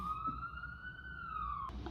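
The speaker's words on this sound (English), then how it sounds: "that's the second ambulance" An ambulance siren passes outside a house, a long rising and falling wail heard faintly from a distance, alone before a brief noise at the end.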